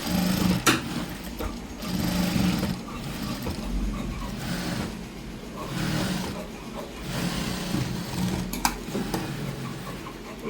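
A sewing machine runs in steady stretches as a dress seam is stitched, its motor whirring with brief pauses and small clicks between runs.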